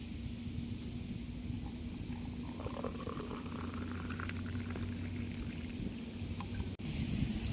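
Hot water is poured for a cup of Coffee Co Brown instant coffee, giving a steady close-up splashing and bubbling stream that runs continuously with no talking and cuts out briefly near the end.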